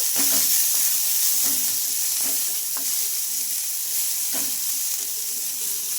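Onions and curry leaves fry lightly in a pan for a sago breakfast, giving a steady, close sizzle with faint stirring scrapes ticking through it.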